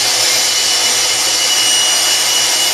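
A power sander works steadily on a homemade pole spear slip tip with 120-grit sandpaper, giving a continuous, loud broadband whir with no pauses and no talk.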